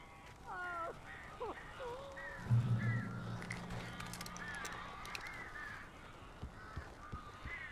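Crows cawing in the Alan Wake Remastered video game, several short harsh calls scattered across the clip over a low rumbling ambient bed, with a brief louder thud partway through.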